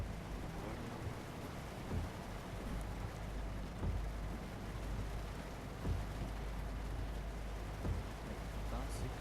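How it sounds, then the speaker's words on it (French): Rain falling in the truck-driving game Euro Truck Simulator 2, a dense steady hiss of drops drumming on the cab with low rumbling underneath, continuous and fairly loud throughout. "Ah, je suis sous la pluie."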